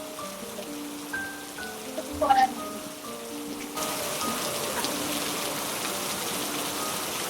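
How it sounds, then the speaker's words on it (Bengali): Steady rain falls outside during a thunderstorm, beginning as a soft patter and swelling into a dense, even hiss after a few seconds. A brief voice speaks near the start. "বাইরে দেখতে পাচ্ছেন কেমন বাদল চমকাচ্ছে আর বৃষ্টি হচ্ছে"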